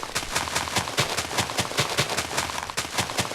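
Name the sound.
explosions in Minecraft video game dungeon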